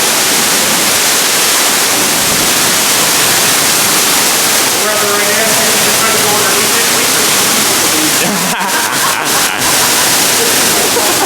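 Steady roar of a 100-foot underground waterfall in a cave, loud and continuous, with faint voices and a few brief clicks partly under the rushing water.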